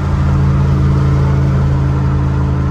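A 5th gen Camaro SS V8 with a K&N cold air intake drones steadily while driving, a loud, deep, even engine note with strong low harmonics and no talking.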